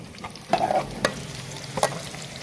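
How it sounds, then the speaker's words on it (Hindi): Onions fry to a light golden in a pan for a cabbage, peas and potato dish: a quiet steady sizzle with three or four distinct spatula knocks and scrapes, close up and without speech. "तो प्याज को मैंने लाइट सा गोल्डन कर लिया है, देखिए"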